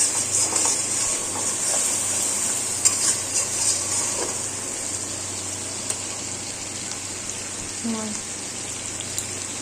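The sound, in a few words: masala with sugar tempering frying and stirred in pan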